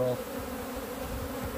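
Bees buzz at a bee farm near open beehives, a steady close-up hum that carries evenly and alone throughout.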